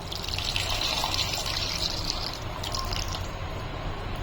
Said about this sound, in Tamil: இன்னும் கொஞ்சம் நம்ம தண்ணி ஊற்றிக்கணும்